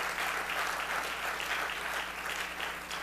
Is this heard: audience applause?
yes